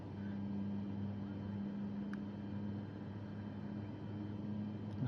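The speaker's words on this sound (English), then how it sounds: "probably shouldn't have stood right by the engine. It's running up." Aircraft engine running up, heard as a steady, continuous low droning hum with a constant tone, moderately loud and unbroken, with a faint click partway through.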